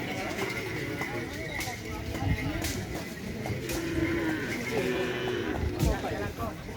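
Hooves of a large racing bull at a karapan sapi bull race on Sapudi Island clop steadily within a loud, dense wash of crowd noise and background voices.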